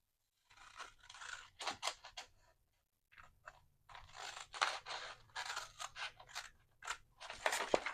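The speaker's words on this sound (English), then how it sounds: "I'm going to flip it over and just cut it straight out." Scissors cut through a paper envelope, with rapid crisp snips and crunchy paper rustling in close bursts, broken by a short pause, and no talking.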